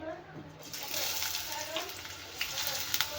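Finely chopped onions go into hot oil and fry, a rising close sizzle and crackle that swells after the first moment and continues with a few spits and pops, with a voice talking over it.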